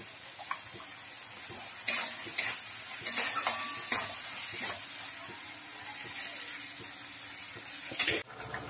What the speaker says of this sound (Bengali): গ্রেভিটা ফুটে গেছে